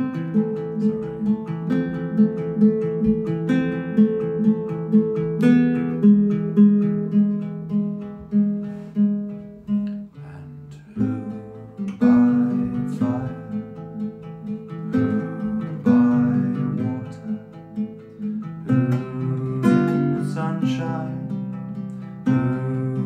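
Acoustic guitar picking pattern carried through a folk song's chord progression, plucked notes rolling in a steady rhythm, clear and close with no voice.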